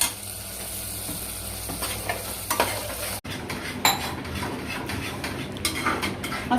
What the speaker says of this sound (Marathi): असं सारखं हलवत राहायचंय मसाल्याला, जोपर्यंत तेल नाही सुटत.